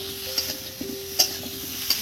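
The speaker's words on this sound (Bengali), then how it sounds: "বেশ কিছুক্ষণ এটা এবার নেড়ে চেড়ে নেবো বন্ধুরা।" A spoon stirs potatoes in ghee and asafoetida in a hot pan, steady sizzling broken by a few sharp scrapes and taps against the metal, close and clear with no talk.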